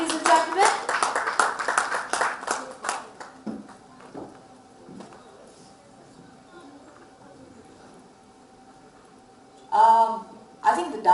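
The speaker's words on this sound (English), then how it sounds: "Give her a huge round of applause, ladies and gentlemen." Audience hands clap for a woman invited onto the stage at a speaking event, a burst of quick, dense clapping over the first few seconds that fades, then a short renewed flurry near the end.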